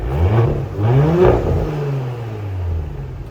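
An Audi S5 engine with a new exhaust revs hard in two or three sharp bursts, then settles into a lower, rumbling drone as it drops back toward idle, close by.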